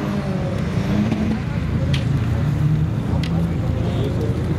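A 1.9 litre turbo VW Golf race car accelerates hard at an airport race, its loud engine droning steadily and close with a rising pitch, under a race commentator's speech.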